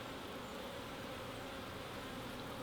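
A steady, dense buzz of many honey bees at a hive, with smoke driving them down, hums continuously at close range, even and unbroken throughout.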